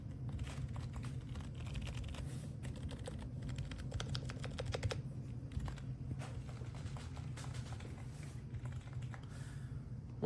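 Rapid, steady keystrokes on a MOFII MilkTea 18-key wireless numeric keypad, its zero and enter stabilizers removed, sound as soft, close clicky taps in a continuous run over a low background hum, with no talking.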